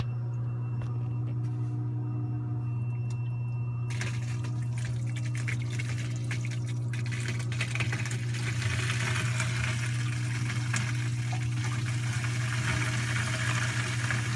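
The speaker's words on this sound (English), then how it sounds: "you're gonna hear a suction sound soon" Water draining down in a Red Sea Reefer 170 aquarium, a low continuous hum under gurgling water that turns into a louder, rougher sucking rush partway through, close and steady, no talking.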